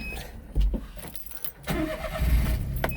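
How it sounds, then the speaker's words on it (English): A 2005 Daihatsu Hijet S210P 4x4 mini truck engine cranks and catches, then settles into a steady running note, recorded up close with faint clicks and rattles around it. "Start the engine up."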